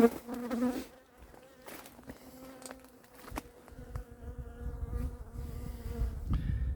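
Steady insect buzzing from a cluster of honeybees at a hive being moved, a continuous drone with occasional clicks and knocks of handling nearby, growing slightly louder toward the end.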